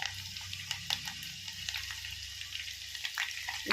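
Sliced onions sizzle and crackle in hot oil for a sambar, a steady close fry with sharp popping spits scattered throughout and the occasional stir of a spoon.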